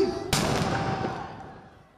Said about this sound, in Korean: 출발을 알리는 총성